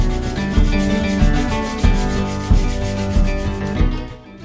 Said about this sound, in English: Then trim it with a hand planer or a rasp.